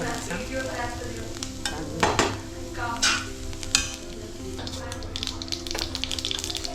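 Onions fry in a pan for a Khandeshi dish, sizzling steadily while being stirred, with scraping clatters from the utensil and a voice talking over it.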